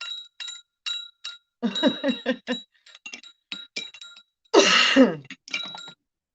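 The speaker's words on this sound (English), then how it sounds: "Hold on, wait, let me ring the bell." A small bell rung by hand in a series of quick, bright dings, each with a sustained ringing tone, mixed with clattering touches; close and fairly loud, with no one talking.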